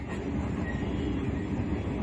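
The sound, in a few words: moving VIP train to Luxor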